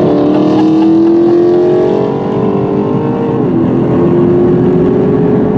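A 2020 Chevy Camaro RS 3LT engine drones loud and close while driving through a corner, its pitch dipping and then climbing steadily as the car eases off and accelerates out.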